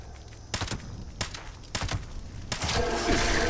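Gunfire in Fallout 76: several sharp, loud shots crack in bursts about half a second apart, then a denser volley near the end over a steady background hum.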